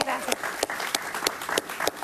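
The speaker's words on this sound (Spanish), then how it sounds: "Un aplauso para Saraí" A studio audience on a Spanish-language talk show applauding a guest, brisk clapping with sharp individual claps standing out, mixed with some background voice.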